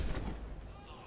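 Explosion in the video game Mass Effect 2: a single heavy boom with a rumbling tail fading over about a second, alongside game effects.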